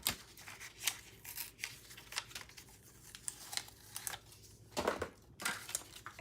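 Scissors cutting a strip of hot foil for card stamping, a quiet series of short snips and crinkles in close succession with no talk.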